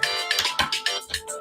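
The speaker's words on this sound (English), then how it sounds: "Every time I get live, my phone rings." A phone ringtone plays loud and near, a short bright melodic pattern of quick repeated chiming notes.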